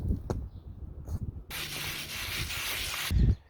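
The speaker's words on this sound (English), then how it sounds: "once you brush all your product onto your oil" A sturdy brush scrubbing degreaser into an oil stain on a driveway: a loud rasping stroke for about a second and a half, preceded by a few short scrapes and knocks.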